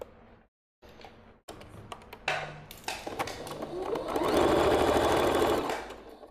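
Sewing machine stitching folded cuffs for a pleated-front tunic, starting with short bursts and gaps, then running steadily and louder near the end, close by with no talk.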